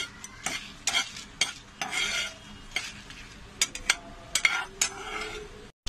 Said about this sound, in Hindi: लाल मिर्ची को भी रोस्ट कर लेंगे, स्लो फ्लेम में करना है सर